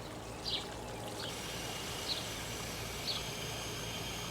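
Water streaming steadily into the reservoir of a potted Mangave plant, a constant close pour with a few faint chirps in the background.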